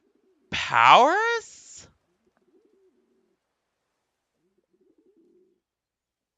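A single pigeon coo from a VRChat map, Epilog Chapter 2: one bold, rising-and-falling call lasting about a second, close and loud, with a brief spoken word at its tail and near-silence afterward.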